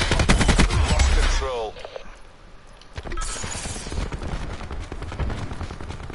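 Rapid automatic gunfire from a weapon in the shooter game Call of Duty Black Ops 4 rattles loudly in fast bursts, drops off briefly, then returns as a steady stream of shots.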